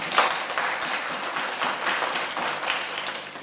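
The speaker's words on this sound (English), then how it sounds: "So I think our President deserves a round of applause for being a champion." Parliamentary-style audience applause for a Tanzanian president, a soft, even wash of many hands clapping at a distance, steady throughout without talk.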